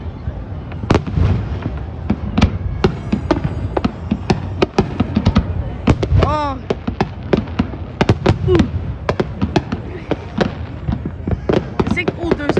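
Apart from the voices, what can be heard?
New Year's fireworks exploding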